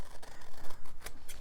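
Quick, crisp snips and rustles of scissors cutting through paper, several short bursts close by, with no talking.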